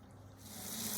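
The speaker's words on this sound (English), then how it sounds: "pour the pasta into the colander, making sure that all the water drains clear" Pasta water pouring into a colander in a kitchen sink, a steady rushing splash that swells louder and brighter partway through and keeps running to the end, heard alone with no voices.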